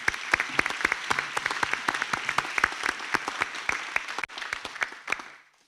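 Graduates at a graduation ceremony get applause from a modest audience, distinct individual claps ringing close and steady before thinning out and fading.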